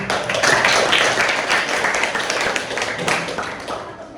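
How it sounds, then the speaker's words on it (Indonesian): Audience applause at a student accounting group presentation, a dense steady patter of many hands clapping close by throughout, with faint voices mixed in. "Kasih aplaus sekali lagi"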